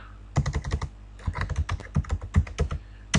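Keys clatter on a computer keyboard as a project title is typed, in quick irregular bursts of close, crisp clicks with a short pause partway through.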